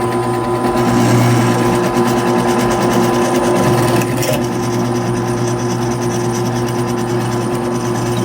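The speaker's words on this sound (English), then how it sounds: "Important to drill a pilot hole to help keep the bit straight." A power drill whines steadily and loudly up close, running without a break, its motor pitch wavering slightly as it drills a pilot hole into metal.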